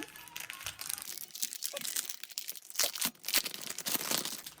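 Close, crisp crinkling of stiff plastic photocard packaging, handled in irregular bursts of crackles and rustles with brief pauses between.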